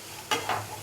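Turmeric, red chili and dry mango powder stirred into green chilies frying in a pan for a moong dal kachori filling: two quick scraping swishes close by, short and alone.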